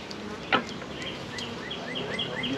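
Honey bees hum around a swarm trap hive with a low, steady drone, close and fairly quiet, while faint birdsong chirps in the background and a single brief thump sounds near the start.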